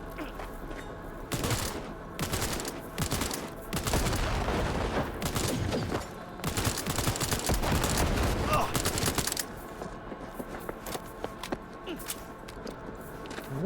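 Rapid bursts of automatic gunfire in the video game Cyberpunk 2077 on PS5, dense volleys that stop and restart over a steady backdrop of game noise.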